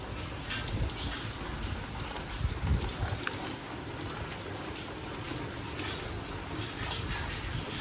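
Light rain in a rural village setting, a steady soft hiss of falling drops close by, with occasional louder taps and low rumbling bumps, continuous and unbroken with no voices.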